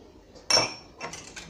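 A utensil stirs a half glass of table oil into a brioche dough mixture, giving one sharp clink followed by softer, scattered clattering against the bowl, with no voices.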